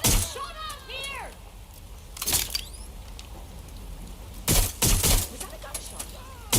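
Gunfire in the video game Watch Dogs Legion: sharp bursts of shots crack out in two clusters, mixed with character voice lines and background game noise.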